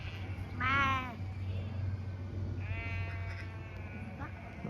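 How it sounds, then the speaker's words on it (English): A black sheep bleats twice on a hillside ridge walk in the Brecon Beacons, a near, wavering call followed by a longer, fainter one, with people chatting quietly nearby. "Yeah, it is a sheep."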